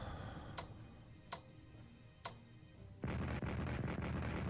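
Defensive artillery fire in a WWII strategy video game: three sharp separate reports, followed by a dense, loud rumbling barrage of overlapping booms that continues to the end, with no talking.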